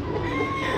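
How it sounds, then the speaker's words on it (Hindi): Pet rooster and hen in a backyard coop, clucking softly and continuously at close range, with low-level farmyard background noise and no speech. "ले जी, ये मेरा मुर्गा है"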